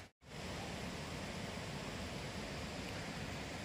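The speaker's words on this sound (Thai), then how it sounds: "ผมได้ยินเสียงน้ำตกซ่าซ่าอยู่ใกล้ๆบริเวณนี้นี่เองนะครับน้ำตกสำโรงเกียรตินั่นเอง" The Samrong Kiat waterfall in Khun Han, Sisaket, rushes nearby as a steady, even hiss of falling water that stays fairly quiet and unchanging throughout.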